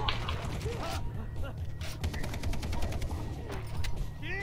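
A silenced pistol fires a headshot in the video game Far Cry 3: a few muffled, sharp mechanical clicks and thuds stand out over busy game background noise.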